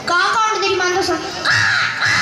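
At a school annual day mimicry performance, a person imitates a crow with two or three loud, nasal caws, close and clear, one right after another.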